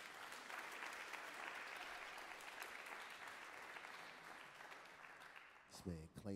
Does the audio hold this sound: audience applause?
yes